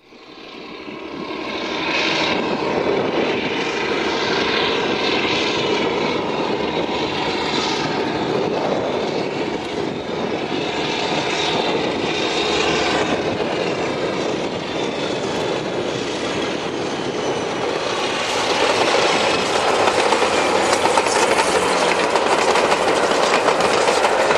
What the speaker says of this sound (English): With her Maybach V12s reverberating across the Western Isles, Western Champion sounds magnificent as she powers away from Achnaisheen and heads back to Inverness